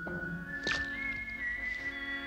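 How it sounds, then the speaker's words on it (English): A thin, wavering whistle tone from the Battle of the Planets cartoon hangs over a faint hum, with a short rustling burst near the start; quiet and eerie rather than melodic. "That weird whistling, who could it be?"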